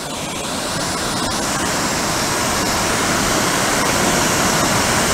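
A steady, loud rush of water pours down Potato Falls, a waterfall in Gurney, Wisconsin, a constant, close roar with no pauses.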